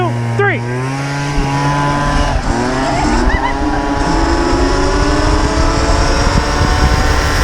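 Sur Ron electric dirt bikes racing off the line, a loud continuous motor whine with rising and sweeping tones that climbs steadily as the bikes accelerate, with a brief voice near the start.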